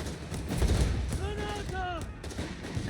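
Machine gun fire in the strategy game Company of Heroes 3, rapid bursts of shots under busy battle noise, with a voice talking over the action.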